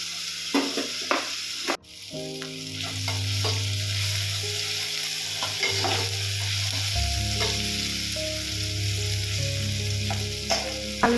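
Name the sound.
onion and tomato with fennel seeds sautéing on low flame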